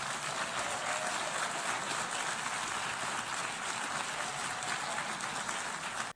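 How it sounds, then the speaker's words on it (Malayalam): Sustained crowd applause inside the UN General Assembly hall during a speech by Netanyahu, an even wash of clapping heard from a distance, steady and unbroken. "നെതന്യാഹു എന്ത് പറഞ്ഞാലും അവർ കൈയടിച്ചു കൊണ്ടേയിരുന്നു."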